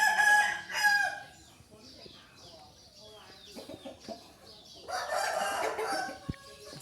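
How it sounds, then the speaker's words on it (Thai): Fighting cocks kept at a rural home crow loudly in two close bursts at the start, then quieter clucking and rustling follow before another loud, drawn-out crow. "เมื่อเช้านี้ก็ขันรับกันทั้งเช้าครับ เป็นไก่ชนที่ตาเลี้ยงไว้นะครับ"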